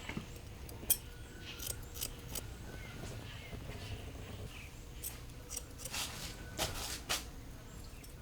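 Scissors snip an old man's hair at a rural barbershop in summer: quiet, irregular metallic clicks and snips come close up at an unhurried pace over low room tone.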